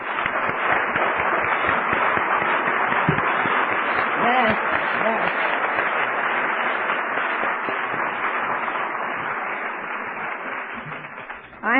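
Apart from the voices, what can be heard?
round of applause for the convention committee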